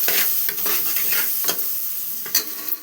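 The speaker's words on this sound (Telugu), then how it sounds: "ఇంకా 1 స్పూన్ అయితే పసుపు వేసుకొని ఇది బాగా వేగనివ్వాలి" Spices with a spoonful of turmeric fry in a hot pan, a steady close sizzle broken by scraping stirs and clinks of a spoon, with no voices.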